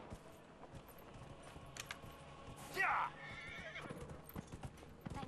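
A horse in the video game Dragon Age Inquisition clip-clops along with steady hoofbeats, then lets out a short, loud whinny midway through, while a voice talks over the game sounds.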